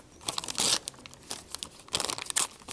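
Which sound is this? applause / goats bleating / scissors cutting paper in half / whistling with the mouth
scissors cutting paper in half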